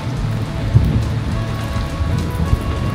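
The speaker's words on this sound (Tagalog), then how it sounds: "Oh my God, lumalakasan yung ulan." Heavy rain pours steadily on a Lisbon street, a dense continuous hiss of drops with a low rumbling undertone, loud and close, with no talk.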